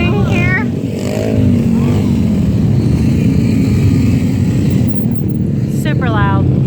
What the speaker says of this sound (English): They're like mini bikes.